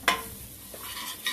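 Dal and spinach masala stirred in a pan: a clear scrape at the start, soft sizzling, then another scrape near the end, close and quiet with no talking.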